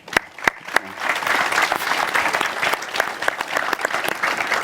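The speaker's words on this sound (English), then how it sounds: "Let's give a round of applause to you." Audience applause for conference panelists at a cultural heritage event, a dense steady clapping from a seated crowd that opens with a few sharp close claps and carries on evenly throughout.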